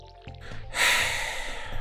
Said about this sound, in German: Seitwärts gießen ist einfach die Pest am Arsch